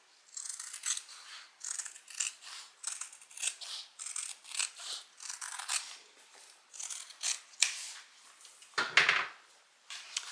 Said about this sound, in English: I'm going to cut this seam down just a little bit